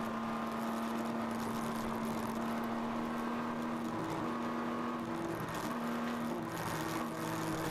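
An endurance race car engine at Road America drones steadily and loud from inside the car, its pitch stepping up and down through shifts as it works through corners.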